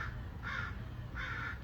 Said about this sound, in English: You can hear the crows cawing in the background.